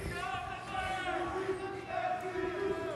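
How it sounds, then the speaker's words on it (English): Wrestling arena crowd at a Jay Briscoe tribute show chants SCU in a rhythmic, sustained roar, dense and fairly loud, with no clear break across the short span. "The crowd chanting SCU, another foe of the Briscoe."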